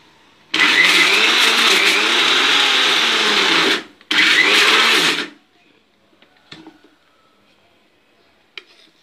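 A mixer grinder grinds peanuts with a loud steady whir for about three seconds, stops briefly, then runs again in a short burst before cutting out, followed by small clicks and handling sounds.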